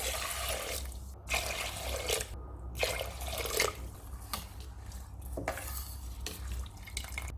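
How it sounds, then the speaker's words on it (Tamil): About four cups of water is poured into a pressure cooker holding rinsed rice and lentils, splashing and trickling in uneven bursts with brief pauses, close and fairly quiet, and no one speaks. "நாலு கப் அளவு தண்ணி சேர்க்குறேன்."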